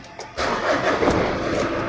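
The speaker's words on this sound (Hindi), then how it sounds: "यहाँ पे अब लेट्स स्टार्ट द कार." A Mitsubishi Pajero SFX engine cranks briefly and fires up, settling straight into a loud, steady, close rumbling idle.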